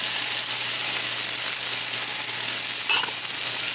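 Tomato and bay leaf cooking in a pan for Mexican-style braised oxtail, giving a steady, loud sizzle and frying hiss throughout with a brief clatter near the end and no talking.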